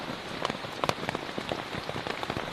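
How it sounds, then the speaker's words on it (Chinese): Steady rain patters densely on leaves and surfaces in a tropical rainforest, a close, continuous hiss of countless drops with slightly louder individual taps scattered through it. "唉，雨终于小点了，但不过现在还在打雷，天色也很阴郁"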